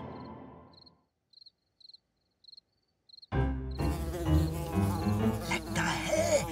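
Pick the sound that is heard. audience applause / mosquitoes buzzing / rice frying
mosquitoes buzzing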